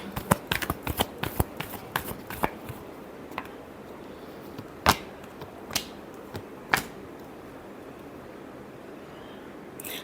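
A deck of tarot cards is riffled in quick crisp bursts at first, then a few isolated sharp card snaps and taps follow at intervals against near silence.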